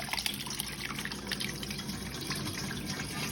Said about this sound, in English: The whey is going through the cheesecloth.